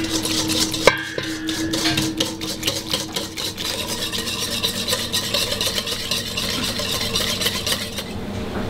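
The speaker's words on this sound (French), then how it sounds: "la crème est chaude, on vient le verser sur le ruban et on mélange" A whisk or spoon scrapes and taps steadily against a bowl as hot cream is poured over egg yolks beaten with sugar for crème brûlée. A brief clink comes first, then continuous close rhythmic stirring.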